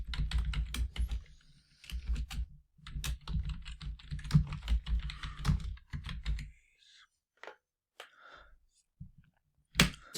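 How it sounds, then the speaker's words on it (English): Computer keyboard typing comes in close, quick bursts of key clicks, pauses, then a few scattered presses and a final sharper tap. "the user will type his age and press enter key"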